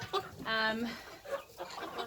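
Chickens being raised for meat cluck in short, close bursts with harmonic calls, reaching a fairly loud peak over about two seconds.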